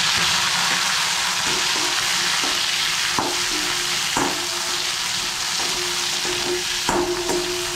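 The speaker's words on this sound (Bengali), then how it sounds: "গ্যাসটা আমি একটু হাই ফ্লেমে করে দিয়ে একটু নাড়াচাড়া করে ভেজে নেব" Prawns frying in hot oil in a wok over high flame: a loud, dense, unbroken sizzle with occasional scraping stirs, close by, no voices.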